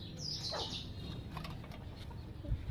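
Pigeons feeding at a village home give a few soft chirps and calls over steady outdoor background noise, with a faint low thump near the end.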